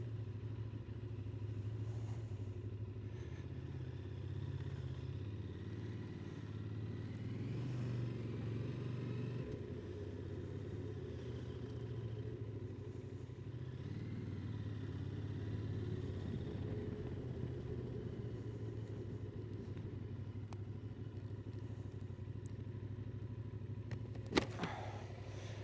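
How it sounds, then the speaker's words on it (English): Early morning road traffic in Shrewsbury, a steady low engine rumble from passing cars and motorcycles that runs throughout, with one brief sharp clatter near the end. "Welcome to early morning traffic in Shrewsbury."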